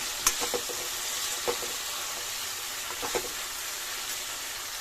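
Tomato and chopped vegetables frying in a pan for parsley upma, a steady soft sizzle with a few sharp clinks and scrapes of a stirring spoon, close by and without talk.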